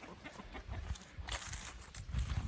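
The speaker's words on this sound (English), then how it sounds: "The chickens are over here in my pile of manure and stuff." Chickens scratching in a backyard manure pile give soft, scattered clucks over a steady outdoor background, moderately near and not very loud.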